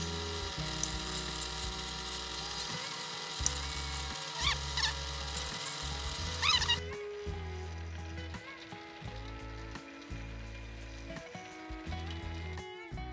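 Holes drilled in wood to start a scroll saw blade, a steady motor whine cutting in and out in repeated short bursts with pauses between, fairly loud and close.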